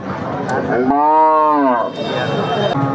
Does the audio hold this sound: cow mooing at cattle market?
yes